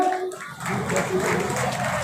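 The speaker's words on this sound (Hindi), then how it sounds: "साथियों तालियां बजाते रहिएगा।" Audience applause at a soldier honour ceremony held by the district Sainik Kalyan Board in Bulandshahr, steady clapping rising after a short quieter start and continuing through, with some voices mixed in.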